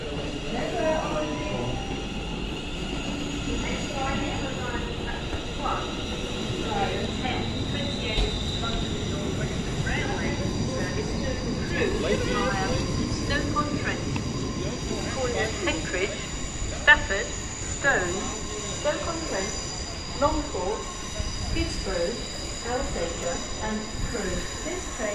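Train station ambience in Sheffield, England, with a steady rumble of rail cars and a faint metallic squeal, people talking nearby over the noise.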